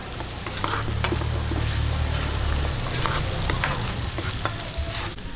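Onions sizzle and fry in a hot pan with garlic for a Filipino bangus binagoongan, a steady close crackle with occasional stirring scrapes and no talk.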